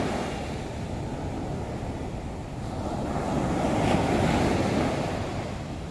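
Big ocean waves on Nha Trang beach roll in as a broad, continuous roar with wind, swelling slightly louder toward the end.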